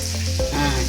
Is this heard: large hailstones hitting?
no